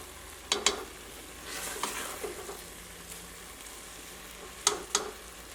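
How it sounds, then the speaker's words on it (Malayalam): Quiet sizzling in a pan with occasional sharp scraping clicks of a utensil stirring thick carrot halwa, a few strokes spaced apart. "നന്നായിട്ടൊന്ന് ഇളക്കി കൊടുക്കാം."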